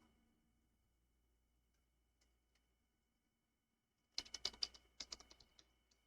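Bursts of typing on a computer keyboard: quick clusters of close, crisp key clicks after several seconds of near silence, with a few isolated taps earlier. Fairly faint overall and no voices.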